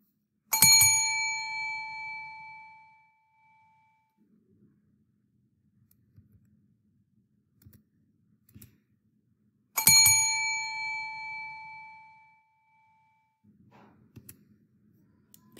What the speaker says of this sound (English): I'm going to play the chime and I want you to focus all of your attention on the chime sound.